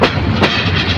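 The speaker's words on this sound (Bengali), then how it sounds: "ট্রেন ছুটে চলছে রেল লাইন ধরে" Train 785 Bijoy Express, bound for Jamalpur, passing Kuliarchar station, heard as a loud, steady rumble of wheels and carriages running along the rail line, with one sharp clack partway through.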